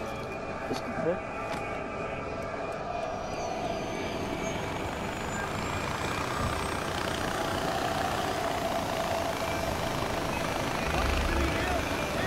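A helicopter in the video game Far Cry 4 makes a steady, continuous rotor and engine drone alongside game effects, holding fairly loud throughout.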